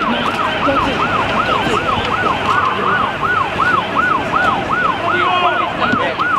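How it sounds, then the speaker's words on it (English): A fire engine siren wails loudly and steadily during the Christchurch earthquake emergency, its rising and falling sweep repeating over a rumbling engine and street noise. "There's more fire engines coming."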